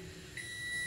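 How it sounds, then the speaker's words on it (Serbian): A microwave oven in a home kitchen gives a short electronic beep that starts partway through and holds steady, faint over a low background hum, with no speech. "Ovo što čujete je moja mikrovalna,"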